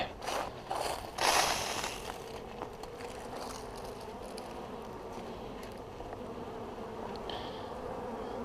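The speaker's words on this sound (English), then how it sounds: "Bees are moving pretty quick. A little agitated." Honey bees buzzing around an open hive during an April inspection, a close, busy drone of many insects with brief louder rustling and clicking handling noises at the start.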